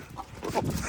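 A rooster being chased gives a short, sharp cluck or squawk among the scuffle, a brief near call lasting under a second amid rustling.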